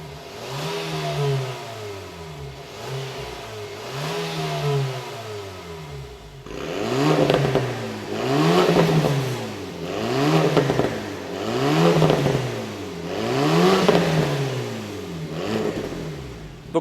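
Alpine A110 Première Édition with a new aftermarket exhaust, its engine revved repeatedly in rising and falling bursts, a slower series of blips followed by about five louder, sharper revs, close by with no talking.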